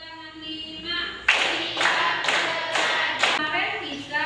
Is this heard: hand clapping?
yes